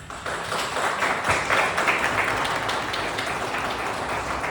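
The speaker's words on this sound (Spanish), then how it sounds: "Entonces, le recibimos con un fuerte aplauso." An audience at a Spanish-language talk on decolonizing politics claps in a dense, moderately loud burst of applause to welcome the speaker, sustained for several seconds with no voices over it.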